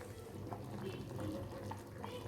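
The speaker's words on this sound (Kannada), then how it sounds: "ನೀರೆಲ್ಲ ಚೆನ್ನಾಗಿ ಕುದೀತಾ ಇದೆ." Water boiling in a pot with soya beans, a soft steady bubbling and simmering hiss, faint and continuous.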